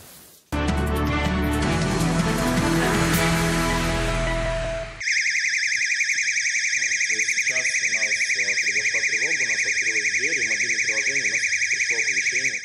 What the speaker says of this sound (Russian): Достаточно приобрести охранную сигнализацию.